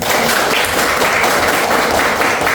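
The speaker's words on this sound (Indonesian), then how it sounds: "Tepuk tangan untuk Kak Mas." Classroom applause from a group of students, a loud continuous wash of clapping hands with no pauses and no speech.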